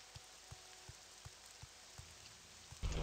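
Rain falls steadily in The Elder Scrolls 3: Morrowind, a soft even hiss broken by regular low thudding beats about every half second, with a louder burst near the end.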